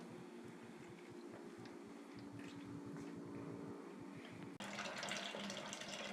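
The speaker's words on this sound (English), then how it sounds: "we're sparging right now." Water runs steadily during sparging for a home-brewed all-grain cream ale, a soft continuous trickle that grows louder and brighter toward the end.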